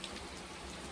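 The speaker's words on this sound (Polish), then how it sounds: "poczekamy, aż może trochę przestanie padać" Steady rain falls during a thunderstorm on a mountain hiking trail, a dense, even patter on surfaces with no voices.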